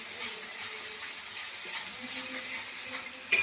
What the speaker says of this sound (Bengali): দিয়ে আমি মশলাটাকে ভালো করে কষে নেবো